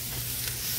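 Ground meat sizzling steadily in a pan with grease, a continuous close hiss and crackle with no talking.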